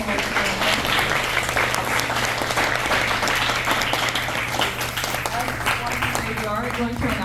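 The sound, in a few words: applause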